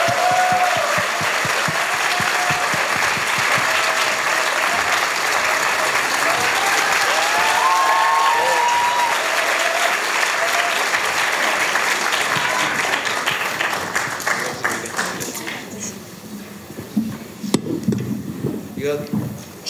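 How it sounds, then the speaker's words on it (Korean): Loud, sustained applause from a crowd of university students in Gwangju welcoming a presidential candidate to a lecture, steady and dense for most of the stretch before thinning into scattered claps near the end, with some voices mixed in. "이제 이재명 후보님을 아주 힘찬 박수로 모시도록 하겠습니다"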